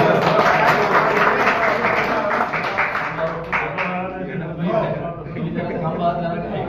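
An audience at a meeting of an all-party action committee claps loudly and briefly. The clapping thins out as someone speaks over it through a public address system.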